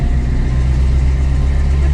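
A 1971 Dodge Challenger R/T engine pulls hard through the gears, a loud, close, steady low rumble of exhaust droning throughout.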